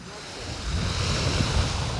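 Sea surf breaking on a city beach at the 13th Fontan station in Odesa, a steady close wash of waves with wind rumble on the microphone and no voices.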